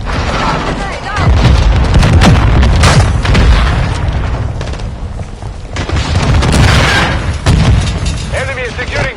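A grenade goes off in the PS5 game Call of Duty Modern Warfare 2, heavy booms rolling amid continuous battle noise and gunfire, with radio-style voice callouts heard throughout.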